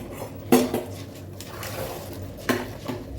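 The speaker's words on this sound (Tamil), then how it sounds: "ரைஸ் இந்த மாதிரி போட்டு நல்லா பெரட்டும் போது நமக்கு எல்லாம் நல்லா மிக்ஸ் ஆகி சூப்பராக வருங்க பிரியாணி" Rice is tossed and stirred into a vegetable biryani pot, with two distinct metallic spoon-on-pot clanks roughly two seconds apart and soft scraping between them.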